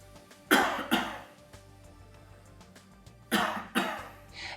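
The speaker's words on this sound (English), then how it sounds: "After this huff, you should perform a supported cough to clear any loosened secretions." Two sharp, close coughs come in a pair, then after a pause another pair, forming a supported cough in a breathing exercise done after surgery against a quiet background.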